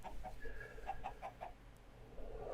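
Short, rhythmic clucks from Minecraft chickens in the video game, a series of evenly spaced blocky chirps at moderate volume with no talking over them.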